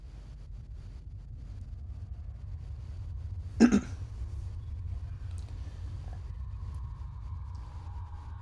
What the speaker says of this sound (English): sorry if throughout this video if you hear me clearing my throat